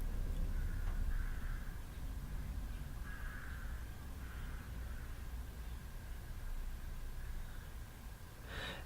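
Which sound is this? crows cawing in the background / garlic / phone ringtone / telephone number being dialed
crows cawing in the background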